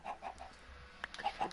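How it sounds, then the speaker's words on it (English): Chickens in a farming video game give a few short, quiet clucks in quick succession, close by and without speech. "And then we have the chickens over here."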